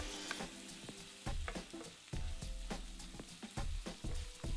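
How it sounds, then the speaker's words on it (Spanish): Ground meat fries in a pan, a soft sizzle punctuated by repeated knocks and scrapes as two wooden spatulas break it apart in an irregular rhythm, close and fairly quiet. "Nos ayudamos de dos palas de madera y la vamos deshaciendo para que se nos vaya sofriendo por igual."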